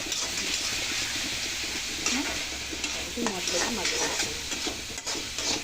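A spoon stirs turmeric and salt through an egg curry with onions in a pan, producing steady close scraping and frying sizzle that runs continuously with no voices.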